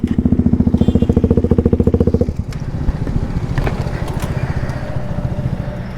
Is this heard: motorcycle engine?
yes